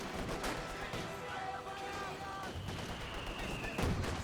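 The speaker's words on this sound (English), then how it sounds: "Sniper shot." Sniper rifle shots in Company of Heroes 2, a crack standing out from dense battle noise with other gunfire and commentary-like chatter running through, ending with a louder report near the close.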